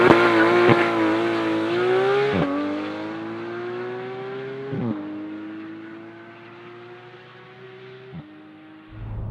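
A Porsche 911 GT3 of the 991 generation accelerating hard, its engine note rising through the gears with brief dips at each shift, loud and close throughout.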